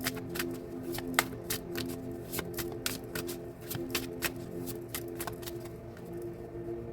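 Rapid, crisp riffling of shuffled tarot cards in repeated bursts, close and fairly soft, with a faint steady hum underneath.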